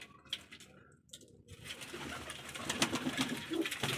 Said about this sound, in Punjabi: ਇਹ ਆਪਣੀਆਂ ਕਬੂਤਰੀਆਂ ਵਾਲਾ ਗੁੱਡਾ ਕਰੋ ਚੈੱਕ